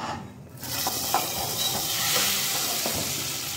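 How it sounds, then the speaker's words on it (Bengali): Hot tempering sizzles as it is poured into khichuri in a pressure cooker, a near, steady hiss that swells after a brief quieter start. "ফোড়নটা হয়ে গেছে, এরপর খিচুড়ির মধ্যে ঢেলে দেব"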